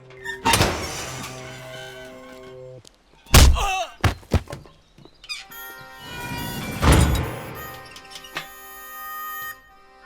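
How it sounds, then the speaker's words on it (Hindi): A prison cell door opens with a sequence of metallic clanks, thunks and scraping slides, separated by short pauses, set against a sustained musical score; no speech is audible. "दरवाजा खोलो।"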